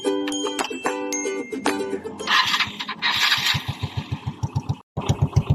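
A Suzuki Skydrive motorcycle under restoration, whose piston ring and carburetor had been faulty, is cranked with several rough bursts, then catches into a quick, even chugging idle nearby, briefly cutting out before resuming.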